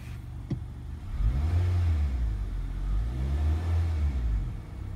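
A brand-new 2017 Honda Accord Sport Special Edition is revved up twice, its engine note rising and falling in two smooth sweeps close by with no talking.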